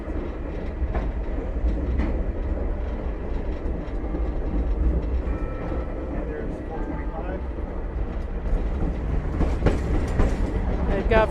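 A passenger train departs and picks up speed, its steady rumble and rail clatter heard from on board with intermittent squeals, while people talk over it.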